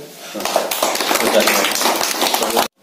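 An audience claps in a brief, lively burst of many hands that starts abruptly, fills the room for about two seconds and then cuts off.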